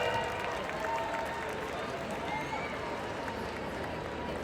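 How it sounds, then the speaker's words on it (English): Audience applause at a concert in an arena: a continuous, even roar of many hands and crowd noise, held at a moderate level throughout without pause. "give these guys a huge round of applause for putting up a great show"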